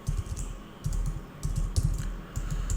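Fingers tap away at a computer keyboard in quick, uneven bursts of close, crisp key clicks with short pauses between runs.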